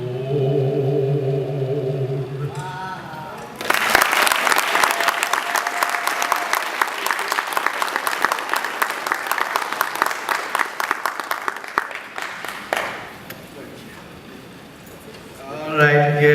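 An audience at a high school event applauds a student performer, a sustained burst of clapping, with singing heard before it starts and again as it dies away.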